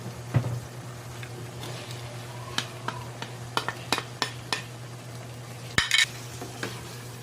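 Mixed vegetables go into a pan of macaroni sauce with hotdog and get stirred, bringing a steady low sizzle, scattered sharp clinks and scrapes of a utensil against the pan, and one louder clatter near the end.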